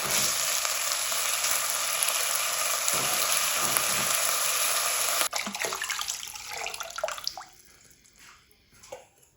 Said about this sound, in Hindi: ये भी साथ ही फ्राई हो जाएंगे।